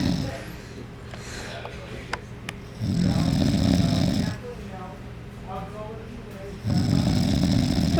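Deep, rasping snores come in two long pulls several seconds apart, close and fairly loud, with quieter breathing and faint murmuring in the gaps.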